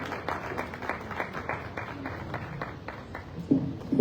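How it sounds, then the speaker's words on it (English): Applause for the panel at an annual tribal conference, a modest crowd clapping in an even patter of distinct claps, with a louder burst near the end. "Please can we have a round of applause for the panel?"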